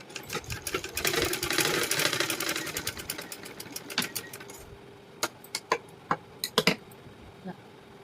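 A sewing machine stitches a lined blouse in short bursts, whirring for a few seconds before stopping. Sharp clicks and taps follow as the fabric is adjusted.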